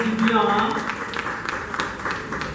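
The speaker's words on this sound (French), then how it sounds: "Je vais applaudir s'il vous plaît." Conference audience applauding at the close of a talk on entrepreneurship, steady broadband clapping throughout with voices talking over it near the start.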